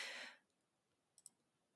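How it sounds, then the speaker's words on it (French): Computer mouse clicks while saving a document to a USB stick: after a fading breathy hiss, two quick faint clicks sound close together in near silence. "Donc, je vais cliquer ici à gauche."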